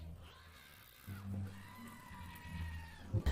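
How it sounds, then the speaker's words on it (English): A goat bleats and screams in a short, strained, wavering cry, heard near and somewhat faint, with a couple of abrupt bursts at the end. "screaming like the goat meme"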